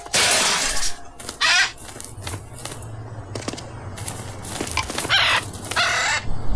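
A parrot lets out repeated harsh, raspy squawks in loud bursts, separated by softer rustling and fluttering, all close by.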